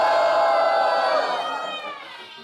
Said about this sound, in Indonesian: Sorakin Cindy!